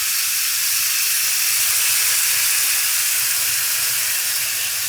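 Marinated mushrooms sear on a hot griddle with a loud, steady sizzle that holds evenly throughout, with no voices.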